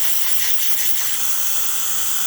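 Steady, loud hiss of a DeLonghi espresso machine steam wand, a continuous broadband rush that holds even for a couple of seconds with no voices.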